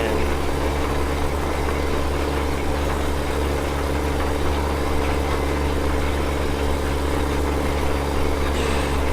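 A tractor engine in Farming Simulator 17 holds a steady, loud idle, a continuous low drone that stays constant throughout without speech.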